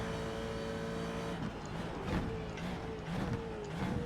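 A loud Ford GT2 race car engine in the iRacing sim blips down through five gears in quick succession into a chicane at Spa, each downshift a sharp rising burst over the constant roar.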